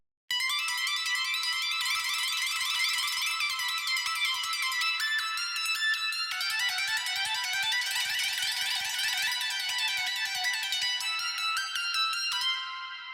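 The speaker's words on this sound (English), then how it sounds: "So for the ARP, I just made it the notes matching the chords" A bright synth arpeggio of plucked notes runs in a rapid, steady pattern that follows shifting chords, loud and close with no voices, for about thirteen seconds before tapering at the end.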